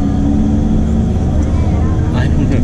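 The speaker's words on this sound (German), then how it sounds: "Übrigens fahren wir jetzt die ganze Strecke mit dem Bus zurück." A tour bus drives back to Funchal on Madeira, a loud steady low engine rumble and road noise from inside the cabin, with a voice talking over it near the end.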